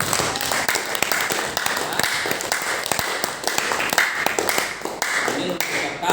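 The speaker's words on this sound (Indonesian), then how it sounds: "Mari kita tepuk tangan semua." Clapping from participants at the close of a teachers' training and sharing session, dense and steady throughout, with talk mixed in underneath.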